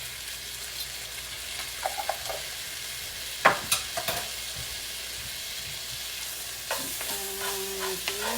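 Peppers, onions and garlic cooking in a pot for a one-pot meal, giving a steady soft sizzle with occasional stirring clatters and a few brief scrapes, fairly quiet and without talk.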